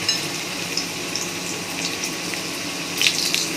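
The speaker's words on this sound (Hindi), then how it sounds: "हमारा ऑयल गर्म हो गया है और यहाँ 1 बाय 1 इस तरीके से डालते हैं" Pieces of vegetarian mock fish deep-frying in hot oil make a steady, loud, hissing bubble with a bright burst of crackle near the end; there is no speech.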